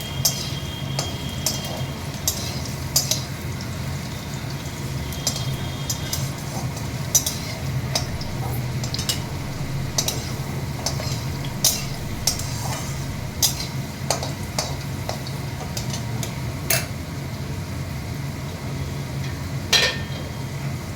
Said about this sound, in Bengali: প্রথমে আলুগুলো একটুখানি ভেজে নিই, বেশি না, হালকা করে।